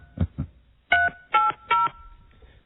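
A few short telephone keypad tones pressed one after another at an uneven pace, clear and close in a quiet room.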